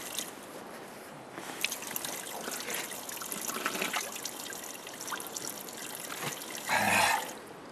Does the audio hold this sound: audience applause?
no